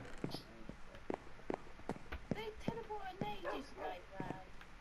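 A dog in Minecraft PlayStation 4 Edition gives a series of short yips and barks at irregular intervals, some with whimper-like tails, fairly quiet against a faint steady background while a person talks.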